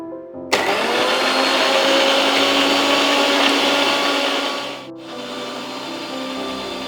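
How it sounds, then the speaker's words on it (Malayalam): A blender whirs loudly and steadily as it blends orange juice with honey, starting abruptly and running for several seconds with a brief dip in pitch near the end before continuing, with no talking. "ഇത് നമുക്ക് ഇനി അടിച്ചെടുക്കുക നന്നായിട്ട്"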